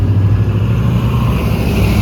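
Road traffic in Canada, cars and heavier vehicles passing with a loud, steady low engine and tyre rumble heard close by from inside a moving vehicle, no talking.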